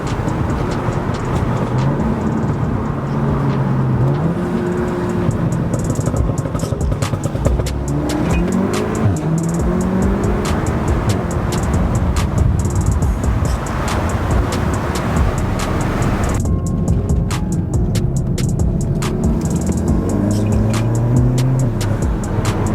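Modified VW Mk7 Golf R with a Stage 1 Plus tune driven with the window down, loud continuous engine drone with shifting revs and scattered crackling exhaust pops and bangs throughout.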